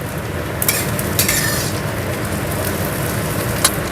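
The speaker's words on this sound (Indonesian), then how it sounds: "Ini tak oseng dulu." Bitter melon and anchovies stir-fried Taiwanese style in a pan over low heat, a steady close sizzle with occasional scraping clinks of a utensil against the pan.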